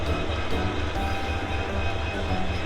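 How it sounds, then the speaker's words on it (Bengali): The Mohanagar Express train rumbles loudly and steadily as it pulls into Chattogram station, a deep low drone and faint rattling of carriages, no voices. "ট্রেন থামছে চট্টগ্রাম স্টেশনে"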